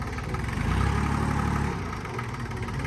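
An Iseki TU1700 three-cylinder, 17-horsepower tractor engine runs steadily close by, a continuous low chugging idle with no voices over it.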